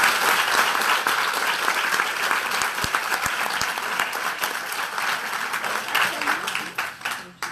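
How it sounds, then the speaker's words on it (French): An audience at a conference applauds two speakers, producing a steady wash of many hands clapping that stays even for several seconds and thins out near the end. "on les applaudit"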